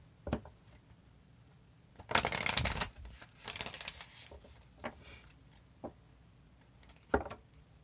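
A deck of oracle cards being shuffled close by, with bursts of riffling and flicking, a couple of longer shuffling passes and scattered soft taps in between.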